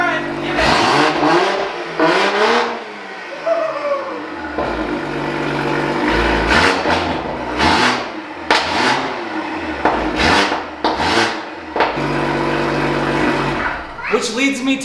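A Toyota Supra's engine revs hard and loud in repeated bursts, rising and falling with sharp throttle blips and brief dips between pulls, close by with voices talking over it.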